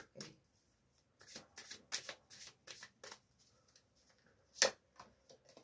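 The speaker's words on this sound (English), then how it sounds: "What last messages do you have, my collective, for this divine reading?" A tarot card deck being shuffled in a series of quick riffling bursts, each about half a second long, with brief pauses between them and one sharper snap near the end; close and fairly quiet, with no talking.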